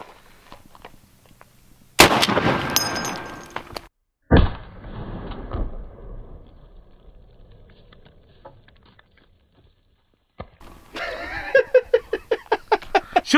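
Serbu BFG 50A rifle fires incendiary rounds outdoors, with a loud sharp blast followed by a second heavy boom and decaying rumble, then a rapid patter of cracks toward the end.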